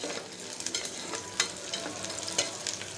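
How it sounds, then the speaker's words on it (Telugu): Curry leaves in a tempering sizzle in hot oil as they fry to brown for tomato rice. The frying hiss is constant, and close, soft clicks from a utensil stirring and tapping the pan cut through it. "ఇవి బాగా బ్రౌన్ కలర్ వచ్చేంత వరకు వేగనిద్దాం"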